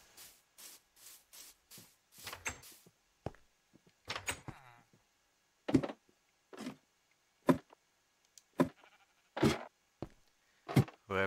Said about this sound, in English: Sheep, get in a pen!